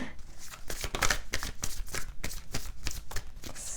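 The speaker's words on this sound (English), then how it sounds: "And I keep shuffling and I get like 8 cards for you guys." Divine Feminine oracle card deck being shuffled by hand, a quick run of crisp riffling flicks and slaps repeating in close succession, near and clear with no talking.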